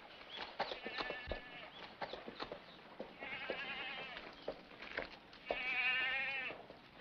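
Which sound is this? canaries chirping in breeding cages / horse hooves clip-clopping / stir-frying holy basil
horse hooves clip-clopping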